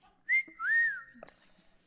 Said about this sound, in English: Thank you for whistling.